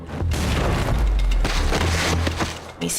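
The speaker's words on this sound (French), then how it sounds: "On voit l'explosion." A loud explosion in security-style footage: a deep booming blast with splintering, crackling debris that rolls on for a couple of seconds before a second thump near the end.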